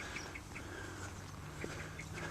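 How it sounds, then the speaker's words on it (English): Birds sing faintly along a quiet country walk near a mill, with scattered short chirps and calls over a low outdoor background, no one speaking. "And that's all you hear. It's the sound of birds."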